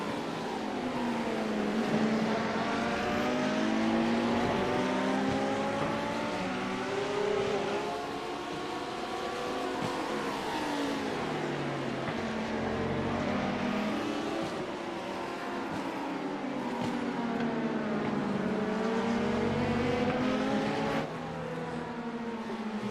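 Race cars including a Porsche and a 94 Lamborghini lapping the Barcelona circuit in a racing series: continuous high-revving engine whine rising and falling through gear changes, steady and moderately loud throughout with no talk.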